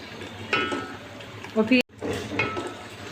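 Boiled meat pieces get tipped into biryani masala in a cooking pot, with clattering utensil knocks, wet stirring and a sharp scrape before a brief silence; a voice talks over it.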